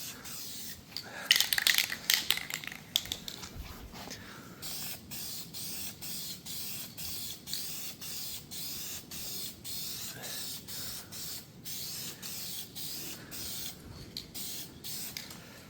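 Adhesion promoter hisses from a spray can onto plastic parts from a 1971 Chevelle, coming in repeated short bursts with a brief pause between each, near and fairly quiet, with no one talking.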